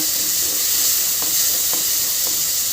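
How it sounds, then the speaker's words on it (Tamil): Chopped tomatoes sauté in a pan for a drumstick-leaf kulambu, giving a loud, dense, even sizzle with a few faint scrapes of stirring. "சின்ன சின்னதாக அதையும் மிக்ஸ் பண்ணிக்கோங்க நல்லா வதக்கிக்கோங்க"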